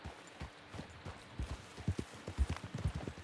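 Horse hooves in Red Dead Redemption 2 clip-clop in a quick, uneven rhythm, growing louder and heavier toward the end over a low ambient rumble.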